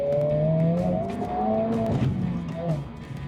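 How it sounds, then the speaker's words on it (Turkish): A Honda Civic Type R's engine revs and drones with a throaty tone from a special aftermarket exhaust, pitch rising and falling as it accelerates, loud and close, on a rally course in Istanbul. "Zaten o egzoz sesi şimdi çok özel bir egzoz."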